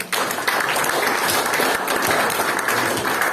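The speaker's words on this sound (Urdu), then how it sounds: "سو ان کے لیے بہت ساری تالیاں" Loud, dense applause from an audience at a live performance, steady and sustained throughout with no talk over it.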